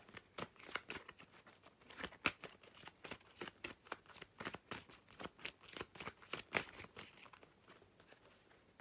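Tarot cards are shuffled by hand up close, a quick uneven run of soft riffling snaps and flutters repeating throughout, fairly faint.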